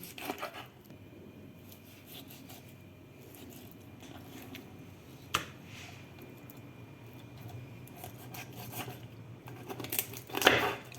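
A whole chicken is cut up with shears: quiet, sparse snips and wet squishy crunches through meat and bone, with a louder clipping crunch near the end, close and alone.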